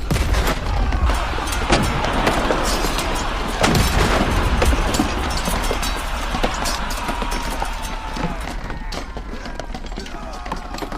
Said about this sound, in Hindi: बाबर का आदेश मिलते ही उन्होंने तोपें चला दी।